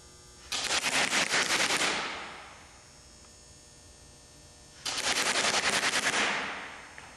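A Magpul PTS airsoft gun fires BBs in two rapid full-auto bursts of about a second and a half each, loud and close, with a quiet gap between them and a faint hum underneath.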